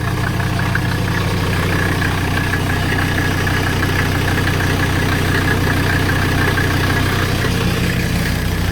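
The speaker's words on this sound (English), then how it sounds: "So there's kind of a whining noise, and that is the transmission." A 1985 Mercedes 300SD turbo diesel runs smoothly at idle, its steady engine drone carrying a thin, constant transmission whine throughout, close and uninterrupted.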